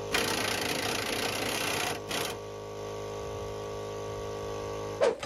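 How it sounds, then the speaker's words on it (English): An impact wrench with an extension and swivel head removes 18 mm strut nuts on a 2004 Chevy Trailblazer front suspension, giving a loud, close, rapid hammering burst of about two seconds, then a steady mechanical hum and a brief final clatter. "I'm gonna use my impact with my extension and swivel head to pop those off"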